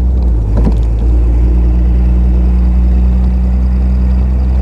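A 1935 Frazer Nash BMW 315 Sport climbs uphill in third gear, its small engine producing a loud, steady low drone with a constant throb heard from close inside the car, no voices over it.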